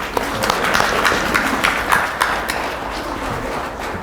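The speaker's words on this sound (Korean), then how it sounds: "큰 박수로 강사님을 모시겠습니다." An audience at a public history lecture applauds to welcome the lecturer, a moderate, continuous patter of many hands clapping in a hall that fades slightly toward the end.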